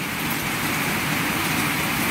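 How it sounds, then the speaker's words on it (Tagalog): Heavy typhoon rain from Typhoon Crising pours down in a dense, unbroken hiss that holds steady and loud the whole time, with no voices. "Grabe itong ulan na to, walang tigil ha."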